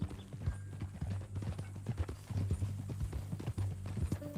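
Hooves clip-clop in a steady rhythmic gait from a horse in Red Dead Redemption 2, close and fairly loud, with a brief neigh mixed into the hoofbeats.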